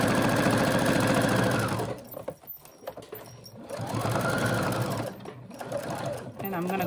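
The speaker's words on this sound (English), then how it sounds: "And then I'm just going to sew all the way down." A sewing machine runs close by in two long stitching bursts with a brief pause between, stitching down the seam of a button A-line skirt.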